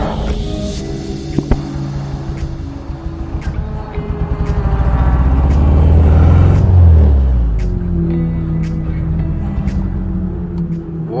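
Classic Formula Ford race car at Cadwell pulling off the track, its engine rumbling and swelling in a rough rev before easing back to a lower throb, close and loud throughout.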